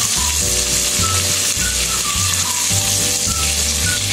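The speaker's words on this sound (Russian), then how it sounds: "Выкладываю сюда оставшуюся печень, которую обжарила." Beef liver sizzles and fries in a 24 cm frying pan, a steady loud crackle throughout with a recurring low rumbling pulse beneath it and no talk.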